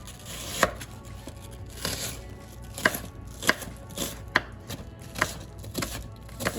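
Onions being chopped on a cutting board for a homemade meat lasagna, a series of distinct knife strikes at an uneven, unhurried pace, close and clear with no talking.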